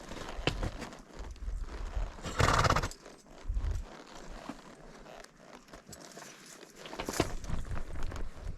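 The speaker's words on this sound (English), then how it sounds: "He's a good sized horse." A good-sized horse on a trail clops its hooves nearby, with a loud whinny and breathy snorts rising over the uneven steps.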